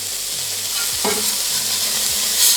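Burger patties sizzle loudly on a hot griddle just after being flipped, a steady crackling hiss with a brief scrape of a spatula and no talking.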